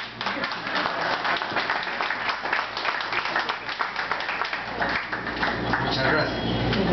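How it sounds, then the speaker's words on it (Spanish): An audience bursts into sustained applause at a live reading, dense clapping filling the room evenly from start to finish, with a few voices murmuring underneath. "Ahora es cuando hay que aplaudir."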